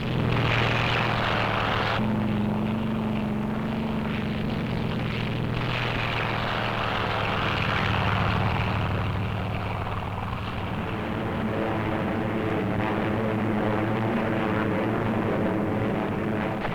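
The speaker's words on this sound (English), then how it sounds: "Admiral Mark A. Mitcher's tireless Task Force 58 stepped up its 2-week-old aerial assault on Kyushu and the enemy home island." Engines of 1945 Task Force 58 carrier aircraft during the aerial assault on Kyushu, Japan, heard as a loud, continuous, steady propeller-engine drone with a shifting pitch, running without a break and with no talk over it.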